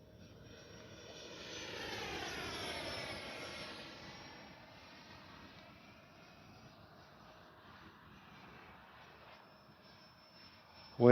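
A modded Freewing Yak 130 RC jet flies past with a rising and falling ducted-fan whine that sweeps in pitch, fairly faint and distant, then fades into wind before a sudden loud bump at the end.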